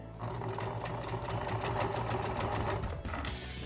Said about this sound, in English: we're gonna sew down this side just a little bit